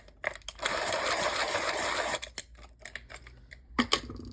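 Inktense colouring pencil worked in a sharpener, a steady close grinding rasp lasting about a second and a half, then a few short scrapes and taps, with no talking.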